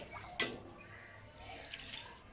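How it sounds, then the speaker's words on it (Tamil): Water poured over a baby during an oil massage and bath, a soft splash followed by quiet trickling and dripping, close and faint, with no voices. "தண்ணி ஊற்றினா அமைதியாயிடும் பாருங்க"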